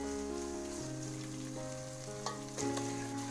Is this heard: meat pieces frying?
yes